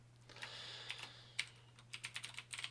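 Quiet, close keystrokes on a computer keyboard while entering a terminal command, irregular taps that cluster into a quick burst of typing toward the end over a steady low hum.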